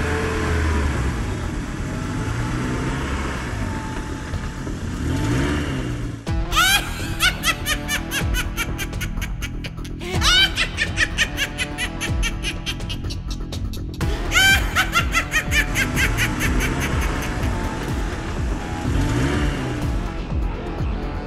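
A cartoon car's engine sputters and then catches in a frantic animated chase scene. It comes as bursts of rapid, clattering, revving pulses over busy music, with brief laugh-like sounds mixed in.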